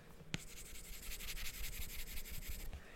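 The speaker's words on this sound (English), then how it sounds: "the anti-glare ones are great because they have kind of a weird matte texture. And when you put the pencil on it," Stylus pencil scratching across a matte anti-glare screen protector, a steady papery scribbling rasp lasting a few seconds after a sharp tap, close and fairly quiet.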